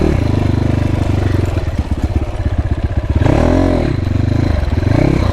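A brand-new motorcycle's engine revs loudly and close up, with a rapid pulsing throb and rising and falling pitch sweeps, and no talk.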